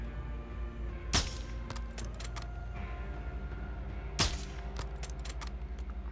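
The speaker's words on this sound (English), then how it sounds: "How many fucking shots does it take to kill this guy?" Gunshots from the Modern Warfare II campaign finale: two sharp, loud cracks a few seconds apart, with lighter clicks and snaps between them over a steady, dense game soundscape.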